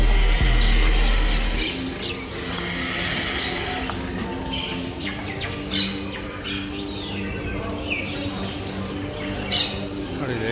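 Pigeons and chickens in a Kuwait bird shop squawk and chirp in scattered loud bursts over a constant background of cooing and cage bustle, close by and continuous.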